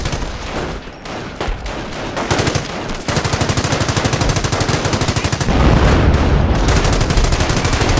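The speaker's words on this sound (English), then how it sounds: "Rifle squad taking fire!" Sustained machine-gun and rifle fire in the Company of Heroes video game aimed at a rifle squad, rapid dense bursts that grow louder and heavier toward the end, loud and unbroken with no voices.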